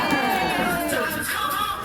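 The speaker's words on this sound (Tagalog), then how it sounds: "Abigail Zali, palakpak naman dyan." A classroom of students greets a teacher's introduction with a brief burst of shouting and cheering voices, loud and close, with no clear clapping.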